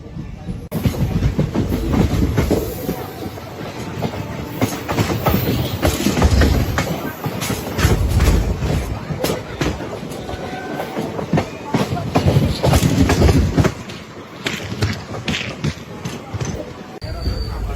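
A passenger train rolls steadily along Indian rails, with continuous rumble and repeated clacks from the wheels over rail joints heard from inside the carriage, with a faint hiss above.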